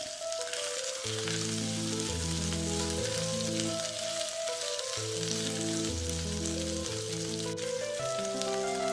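Sliced okra fries in a pan for a yoghurt curry, giving a steady broadband sizzle throughout that sits under loud, continuous melodic background music.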